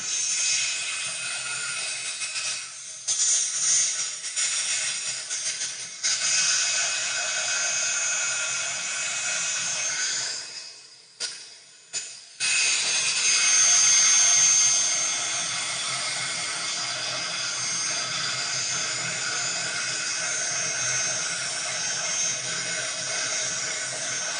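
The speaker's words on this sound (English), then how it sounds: "Yeah, it's like a blow dryer, right?" A handheld heat tool much like a blow dryer melts embossing material for craft cards, producing a loud steady whirring blast that cuts out briefly midway and then resumes, running alone without talk.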